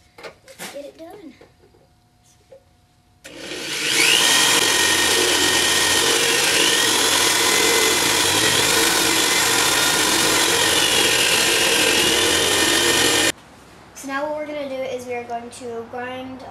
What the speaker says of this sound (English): we are going to drill the second hole